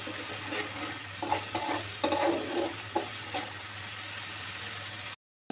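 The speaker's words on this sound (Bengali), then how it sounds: "আর একটু কষিয়ে নিতে হবে মশলাটা" Spice paste frying and being stirred in a pan for a sea fish curry, a steady sizzle with several scraping stir strokes, close and moderately loud, ending in a brief silence.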